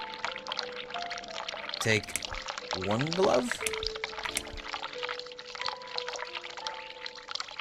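Water pours from a sink tap as gloves are filled with cold water in The Cat Lady game, a steady running pour under frequent talking and background music.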